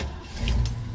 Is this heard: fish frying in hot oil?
no